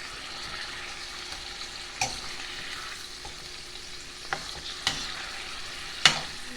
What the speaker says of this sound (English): And then I'm going to add my chicken livers to the pan.